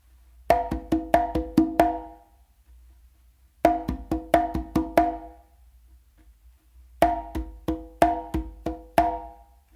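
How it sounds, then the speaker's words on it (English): Congas struck in three quick phrases of sharp open tones and open slaps with the dominant hand, each burst of about six hits separated by short pauses, close and loud. "which is actually going to be an open slap with your dominant hand on the conga"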